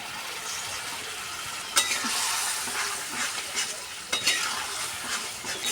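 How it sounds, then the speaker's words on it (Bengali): Amudi fish go into water boiling in a cooking pot, giving a steady loud bubbling hiss and sizzle close by, broken by two sharp splashy clatters as the fish drop in, with no talking. "দেখো, জলটা ফুটে উঠেছে, এবং আমুদি মাছগুলো দিয়ে দেব।"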